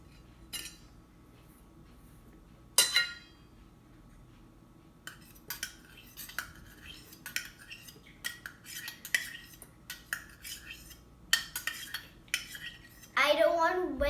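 Cucumber salad with jaggery being mixed in a bowl: a quiet series of irregular spoon clinks and scrapes against the dish, with a louder knock early on and a brief rustle at the end.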